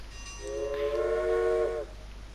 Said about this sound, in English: So for the trains, you have to select a rail line.